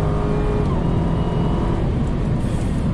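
A Dodge Demon muscle car at launch with its wheels spinning, a loud sustained engine roar holding steady and dense throughout with no pauses.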